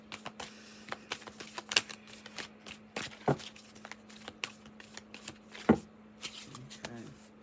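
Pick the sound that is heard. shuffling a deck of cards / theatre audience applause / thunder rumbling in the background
shuffling a deck of cards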